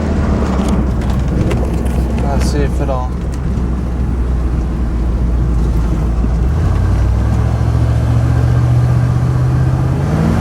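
A Ford truck engine idles with a steady, loud low rumble that runs unbroken throughout, its tone shifting slightly partway through, while someone talks briefly over it near the start.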